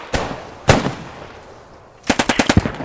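Machine gun fire in the PostScriptum video game, two single loud shots followed after a pause by a rapid burst of about seven rounds, close and sharp with no talk.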